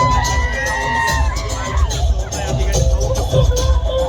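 A huge crowd at a Navratri raas dandiya festival in Khed taluka near Pune roars continuously, with loud cheering, whoops and children shouting over dense babble and music.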